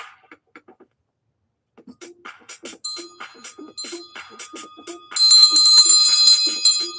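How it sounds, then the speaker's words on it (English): A small bell rings repeatedly in quick, uneven strikes, growing louder and more insistent toward the end, with a voice briefly heard early on. "I haven't rung that bell for a while"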